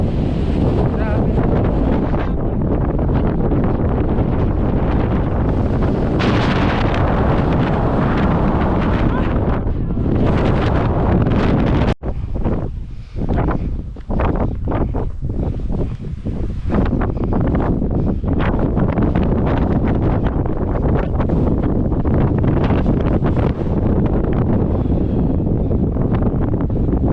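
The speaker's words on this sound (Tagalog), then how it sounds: "Sobrang lakas ng hangin." Strong wind on the summit of Mt Tugew, Kayapa, Nueva Vizcaya, buffets the microphone in a loud, continuous roar with gusty surges, heavy and close for the whole stretch, while a person speaks faintly underneath.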